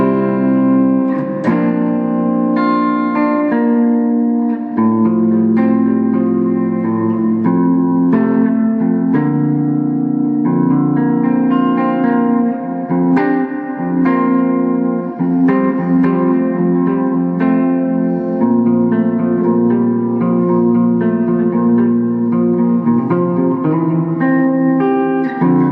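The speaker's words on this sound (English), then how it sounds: "I've got the little Fender Super Champ X2. Let's take a listen to it." Electric guitar played through a small Fender Super Champ X2 combo amp with the reverb turned up, clean sustained chords and notes ringing with a reverb tail, loud and close, without talk.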